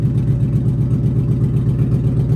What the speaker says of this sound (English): I think we got an exhaust leak, bro.